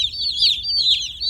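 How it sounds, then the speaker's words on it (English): Thirty-two young chicks peeping in a box, a dense chorus of high, bright overlapping cheeps heard continuously and close. "All right, so we got 32 chicks."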